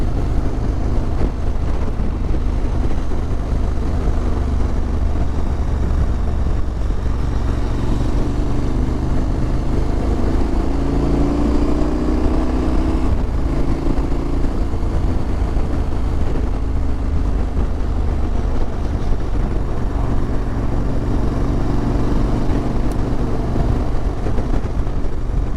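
Riding a KTM 1290 Super Adventure S motorcycle: a loud, constant roar of wind buffeting the microphone, with a faint engine drone underneath throughout.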